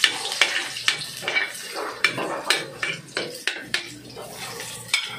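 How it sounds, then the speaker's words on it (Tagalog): Squid for adobong pusit is sautéed in a pan. It gives a low sizzle under repeated sharp scrapes and clinks of a spatula stirring against the metal, in an uneven rhythm close by. "igisa na natin yung ating adobong pusit"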